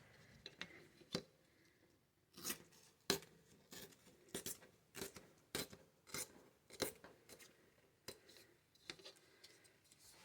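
Washi paper torn in short bursts against a tear ruler, giving a series of quick, crisp ripping and rasping strokes with brief pauses between them, close up and fairly quiet with no talking.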